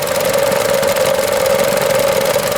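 A 2012 Chevy Cruze Eco with an EcoTec engine runs steadily at idle, giving a loud, continuous mid-pitched hum with a faint knocking texture throughout.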